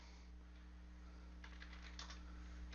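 Keys clatter on a computer keyboard in a short burst of typing, faint and close, over a steady electrical hum, with no voices.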